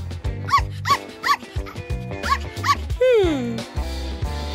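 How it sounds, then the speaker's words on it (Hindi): A dog barks in a quick series of sharp yips over bouncy background music, loud and close, followed by a sliding whistle-like tone. "कुत्ते"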